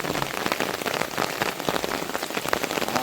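Heavy rain pouring at night during the first monsoon rain of the season while out catching crabs, a loud, dense drumming of drops close by with sharp splatters, continuous and with no speech.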